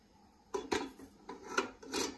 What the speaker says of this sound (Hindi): अभी बर्तन इसमें ट्रांसफर कर देंगे।